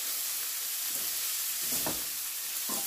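Onions caramelizing in butter in a pan for a grilled cheese, giving a steady close sizzle with a few brief stirring scrapes.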